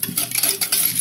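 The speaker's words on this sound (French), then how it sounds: "Vous allez mélanger" Brown cassonade sugar being stirred in a bowl, a soft rhythmic scraping and rubbing close by, with no voices.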